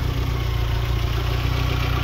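A 1994 Volkswagen Corrado 16V idles under an open bonnet, its engine ticking over with a steady low hum and an even, rhythmic pulse that holds unchanged throughout.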